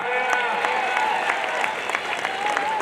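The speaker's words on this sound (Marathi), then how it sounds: "दोन्ही पैलवान हिंदुस्थानचे टाळ्या करा की टाळ्या" Spectators at a traditional kushti wrestling bout in Maharashtra clap in a steady, dense patter of applause that runs throughout, with a commentator's voice carrying over it.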